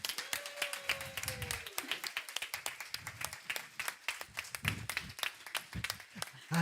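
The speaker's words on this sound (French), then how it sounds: "merci d'applaudir très fort, Lydie!" Scattered applause from a small church service crowd, sharp individual claps tapping in an uneven rhythm, fairly faint, with a brief voice or whistle early on.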